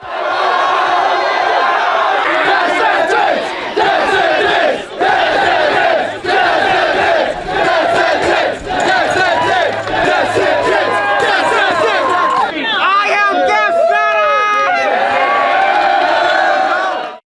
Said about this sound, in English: the eruption of joy after Death Sentence is proclaimed the winner is not only the biggest crowd pop Street Beefs has ever heard